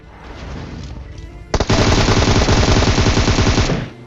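Rapid automatic gunfire in the PUBG Mobile video game: after a low rumble, a loud, dense burst of machine-gun shots erupts and rattles on for about two seconds before stopping.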